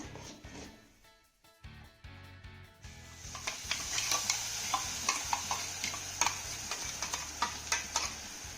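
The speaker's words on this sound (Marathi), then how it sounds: "वाटण घालून झालं की हे वाटण ना चांगलं मिक्स करून घेऊया." Ground masala paste is stirred into roasted gram flour in oil, starting as a quiet hiss and then becoming a close, steady sizzle with repeated small ticks and scrapes from the spoon.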